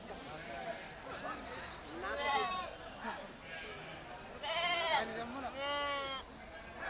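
Several lambs bleat in short, wavering calls, some overlapping, with a voice talking in between and faint chirps in the background, at a sheep and goat market in Kadiri.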